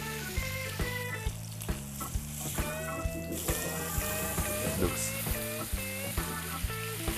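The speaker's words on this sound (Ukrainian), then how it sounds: "Якщо ваша олія гаряча може бризне, то вона ні в якому разі щоб не попала на вас. І робимо скоринку з двох сторін." Pork pieces fry in hot oil to form a crust, a steady crackling sizzle with regular knocks and taps, partly buried under bright melodic music playing throughout.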